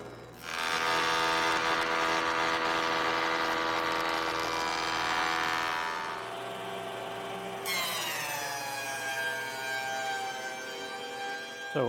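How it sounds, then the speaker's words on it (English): Jointer and planer cutting a black walnut board in a woodshop, a loud sustained high-pitched whine with harmonics that shifts pitch partway through, close and continuous without talk. "So after jointing and planing this piece of wood"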